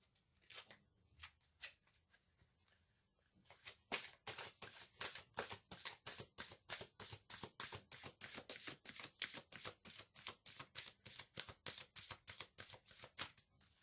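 Oracle cards are shuffled by hand in a long run of quick, rhythmic riffling snaps that start sparse and faint, then grow denser and steady, close by with no talking.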